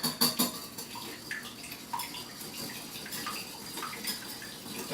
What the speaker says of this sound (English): And then we will whisk it.